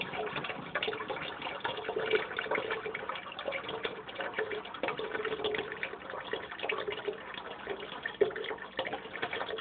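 Filtered water runs steadily into a container, a continuous muffled splashing and trickling at moderate volume, heard fairly close.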